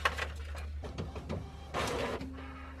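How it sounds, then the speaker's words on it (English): An inkjet-style home printer feeding and printing on white cardstock for a handmade layered birthday card, with mechanical whirring and clunking passes, a pause, then a louder feed and steady motor hum, close and alone. "I'm gonna print and cut these now"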